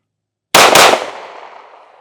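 A single sharp pistol shot from a Springfield Hellcat Pro Comp, loud and close, with a sudden crack that decays into a short ringing tail; silence before it and no talking.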